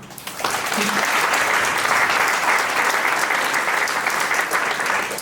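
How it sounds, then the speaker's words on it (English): Wedding guests applaud the groom's new wife at a reception, a dense, steady wash of many hands clapping close by that swells in quickly and holds loud for several seconds. "can I have a round of applause for my gorgeous wife?"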